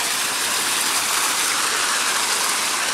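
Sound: small waterfall in park

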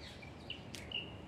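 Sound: bird calls, perit bird, a kind of bulbul

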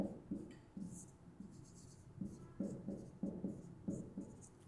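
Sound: writing down a math expression

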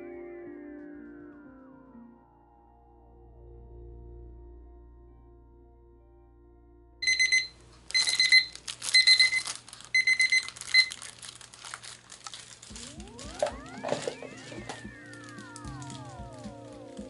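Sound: timer alarm beeping after five minutes of mixing resin

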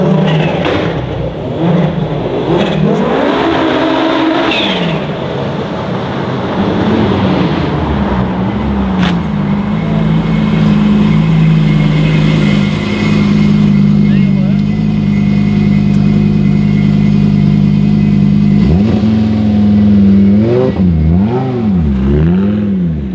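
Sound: car engine starting and revving

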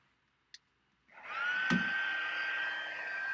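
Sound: embossing heat tool running

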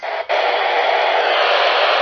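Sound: background hiss of scanner radio with squelch open

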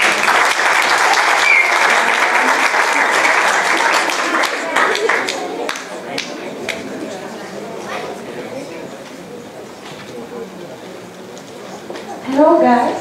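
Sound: warm applause from audience

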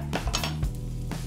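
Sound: spring onions added to frying pan

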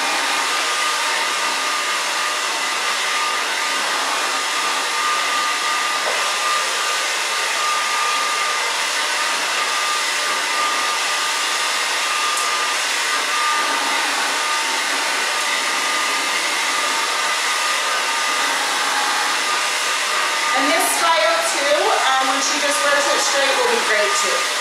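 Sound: hair dryer blow-drying long hair with a big round brush

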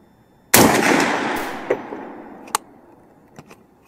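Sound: gunshot from a Bear Creek Arsenal .458 SOCOM rifle

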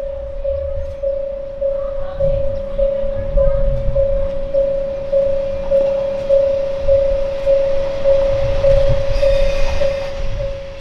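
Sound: Kanto Railway mystery train pulling into platform 1

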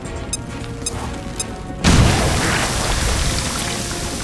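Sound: grenade explosion in XCOM: Chimera Squad video game

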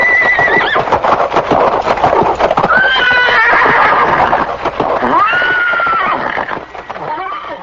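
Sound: horse neighing and hooves

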